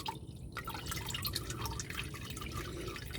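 Hot engine oil drains and drips from a Chevy truck during an oil change, a continuous liquid trickle with small drip sounds, close and moderately quiet with no talking.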